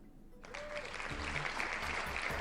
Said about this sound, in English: Yeah, everyone clap.